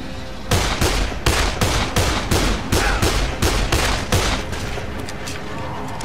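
Gunfire in the zombie game Dead Island, loud, close shots in a steady rhythm of repeated blasts, roughly a dozen over several seconds, without talking.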